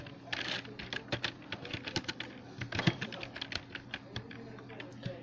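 Rapid, uneven keystrokes on a computer keyboard while entering CSS code, a close and clear burst of clicks and taps that runs steadily throughout with short pauses between runs.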